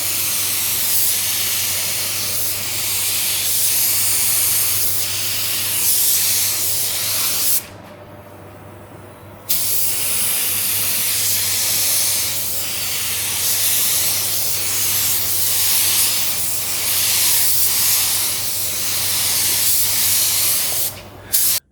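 A paint spray gun lays down black base coat in a steady, loud, close hiss, broken by one short pause partway through and a brief cut near the end.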